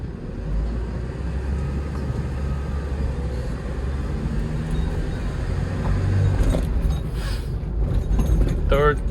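A Hyundai Porter 2 refrigerated truck driving and shifting up through first and second gear, with a continuous engine drone and road rumble that swells slightly near the end, while someone speaks over it.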